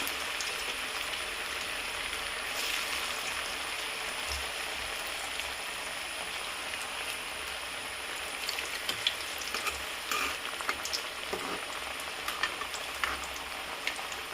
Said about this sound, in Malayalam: അപ്പം ചെറിയ തീയിൽ നമുക്കിത് വറുത്ത് കോരിയെടുക്കാം